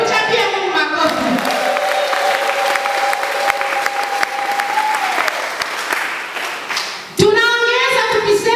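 A church congregation in Butembo-Beni claps hands in praise of God during a Lenten teaching, sustained, dense applause near and loud, with a voice held over the clapping before a brief dip and renewed clapping.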